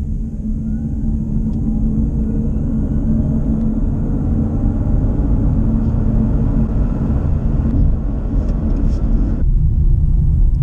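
Xpeng G3 electric car accelerating hard from 0 to 100 km/h, a steady loud rumble of road and wind noise building without pauses before cutting off abruptly near the end.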